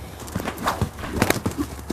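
A horse at feed time shifts and stamps, with a string of hoof clops and thuds close by on hard ground and a brief kick among them.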